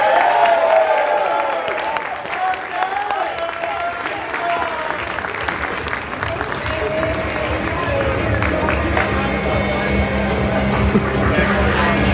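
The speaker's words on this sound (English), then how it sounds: "A round of applause for Dave" Convention panel audience gives a sustained round of applause, loud and dense, with scattered cheers and some voices mixed in, fading slightly toward the end.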